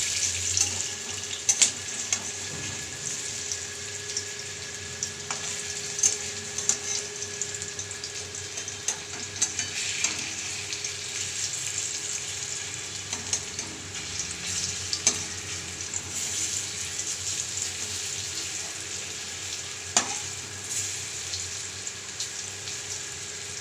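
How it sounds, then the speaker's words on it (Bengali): Cabbage fritters sizzle steadily in hot oil in a pan, a continuous crackling fry with occasional soft stirring and scraping sounds, fairly quiet and alone without talk. "আর এক সাইডটা ভেজে নেব"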